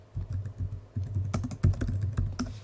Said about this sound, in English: I'm going to just type in one that I happen to know.